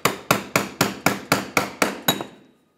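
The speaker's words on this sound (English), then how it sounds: "take your hammer and a punch and lock it in" Nine evenly spaced sharp metallic hammer taps on a punch locking a part during a Ford Focus fuel pump replacement, close and crisp, each ringing briefly before the last fades out.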